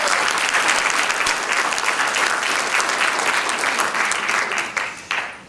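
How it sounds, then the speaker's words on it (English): Loud, enthusiastic applause from an audience at a Faith and Family Day event fills the room, sustained clapping that thins out with a few last claps at the end. "Another round of applause"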